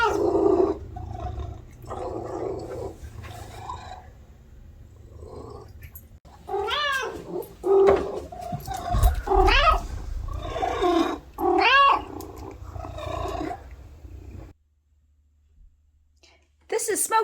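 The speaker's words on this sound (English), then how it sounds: "He meows really loudly when he's hungry and wants fed." Oscar, an 11-year-old pet cat, meows loudly when hungry. After a stretch of soft lower sounds, a run of several long, rising and falling meows comes close and clear, then stops abruptly before a short silence.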